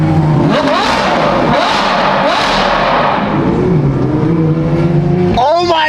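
A Ferrari sports car engine revving hard through repeated rising pulls, loud and close, each surge climbing then dropping before a final sharp rev at the end, with a voice faintly audible underneath.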